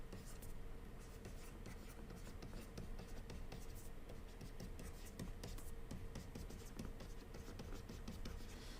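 Pen strokes scratching across a tablet screen while working through a statics problem on 2D concurrent forces in a lecture, a steady dense scribbling texture heard close over a constant background hum.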